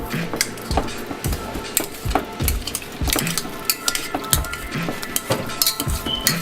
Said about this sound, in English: Now, we want to mash this.